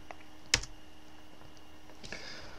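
Computer keyboard tapped while entering the full path to the Synfig Studio binary, one sharp close click early on, then a faint scatter of light keystrokes later over steady quiet background hum.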